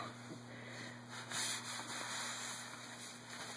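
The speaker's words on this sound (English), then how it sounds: "Scrub that closet, son. Scrub it." A child scrubs a closet floor, giving a steady, close rubbing and scraping sound that continues throughout and swells briefly in the middle.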